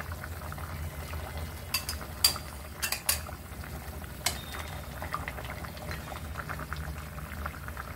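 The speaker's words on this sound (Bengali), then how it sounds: "আমার ঝোলটা ফুটে গেছে।" Hilsa fish curry gravy simmering in a pan, a steady low bubbling texture with a few sharp clinks of a utensil against the pot, close and fairly quiet.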